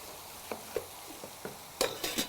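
Cooked meat reheating in a deep pan for Brazilian feijoada, with a low background sizzle broken by about eight distinct spoon scrapes and clacks against the pan. They grow louder and quicker toward the end.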